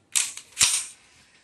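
A Taurus PT838 .380 ACP pistol fires twice in quick succession after a heavy trigger pull, two sharp close cracks about half a second apart, each decaying fast, with no talking.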